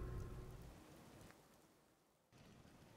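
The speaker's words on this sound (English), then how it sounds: "Out of this infernal rain." Steady rainfall in the video game Fallout 4 hisses across the whole span, a dense wash of drops with a brief dip in intensity before it swells again.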